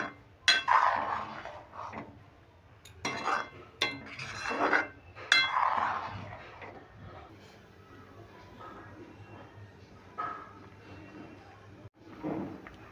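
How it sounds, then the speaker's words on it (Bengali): Jaggery being stirred into rice-dumpling payesh in a pot, with a spoon clinking and scraping against the metal in scattered knocks and clatters, interspersed with a person speaking. "এবার নেড়ে দেবো"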